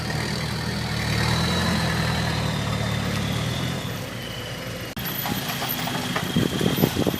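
A loaded dump truck's engine labours up an incline, a heavy low rumble holding steady then dipping, followed by rattling and a strained revving surge near the end, close and without speech.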